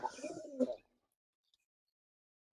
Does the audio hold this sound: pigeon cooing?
yes